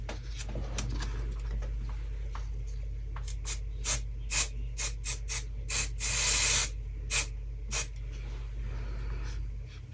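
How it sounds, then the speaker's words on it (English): A series of short bursts of silicone release spray onto a resin mould hiss close by, irregular and punchy, ending in one longer spray, over a low steady hum. "I'm just going to give my mould a little spray"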